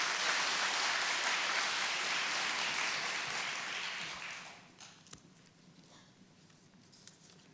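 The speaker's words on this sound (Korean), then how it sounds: "우리 박수로 환영하도록 하겠습니다." A church congregation applauds to welcome a missionary, steady clapping that fades out about halfway through, leaving a quiet room with a few stray sounds.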